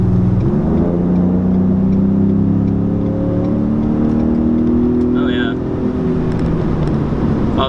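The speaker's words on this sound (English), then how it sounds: "Oh, there's a really cool wastegate sound." A 2017 Ford Raptor pickup's twin-turbo V6 pulls hard onto a highway from inside the cab, a loud steady rising drone easing off near the end, with a brief voice heard over it.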